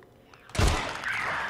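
A gunshot in The Last of Us: Left Behind: one sudden, loud blast with a heavy low thump, then a rough ringing tail that fades slowly over the next second.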